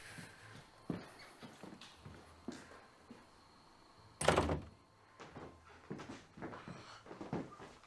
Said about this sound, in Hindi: बस दरवाजा बंद कर देना